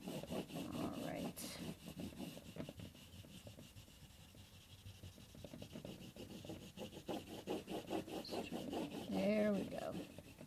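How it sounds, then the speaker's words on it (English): A blue crayon colors in spaces on paper, a steady scratchy rubbing that runs continuously with soft, close strokes, and a brief voice near the end. "I'm going to color in all those uppercase W spaces with my blue crayon."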